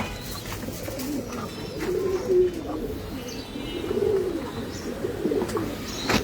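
Pigeons at a breeding farm in Mirpur, Dhaka, coo in low, soft, overlapping murmurs that swell and fade steadily, with occasional faint chirps above a close, dense background.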